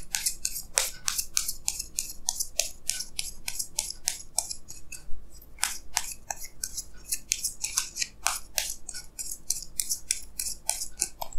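Tarot cards drawn one by one from a deck, giving crisp, rapid flicks and snaps that repeat steadily throughout, close up and with no talking.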